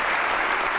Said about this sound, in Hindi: तालियां होनी चाहिए मरियम नूर के लिए